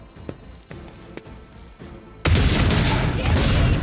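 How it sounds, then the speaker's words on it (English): Grenade blasts in the video game Warhammer 40K: Rogue Trader: a few faint thuds, then a sudden loud, sustained roaring explosion that fills the second half with dense rumbling noise. "Some grenades coming in."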